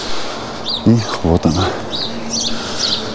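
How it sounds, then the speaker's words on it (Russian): Small birds chirp and tweet in green trees at a seaside memorial site in Anapa, their calls scattered high and fairly close, while someone speaks briefly over them. "Птички поют"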